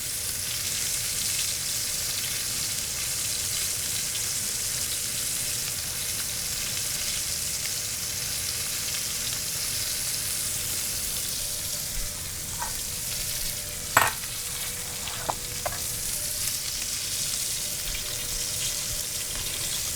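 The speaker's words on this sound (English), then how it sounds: "after I've seared both sides, I like to stand them up and get that fat nice and crispy as well." New York strip steaks searing in a hot pan, a continuous loud sizzle with brief clinks and scrapes near the end, no talking.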